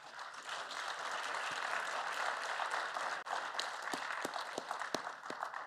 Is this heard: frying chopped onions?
no